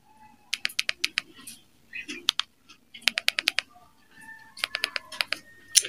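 A short code tapped on a mobile phone keypad for a Teletalk prepaid payment comes through as quick bursts of small, crisp key clicks in rapid runs, separated by brief pauses and faint tones.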